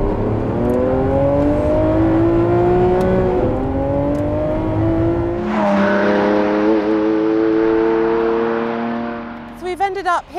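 A Lamborghini Aventador SVJ Roadster's engine revs hard, rising through gears with a brief drop and climb again, loud and close, then cuts off with crackles at the end.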